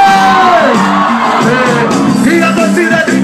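A crowd of fans cheers and shouts at a live show with Nando Ramos. It sounds loud and close, a sustained roar of whooping voices with chanting tones running through it.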